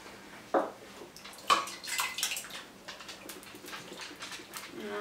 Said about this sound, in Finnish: Sitten mä laitan tähän saman verran vettä